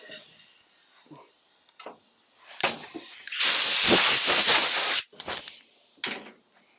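A strong blast of compressed air blowing grass clippings out of a Hayter 41 Spirit lawnmower, a loud hiss lasting over a second, framed by shorter puffs and handling clunks nearby.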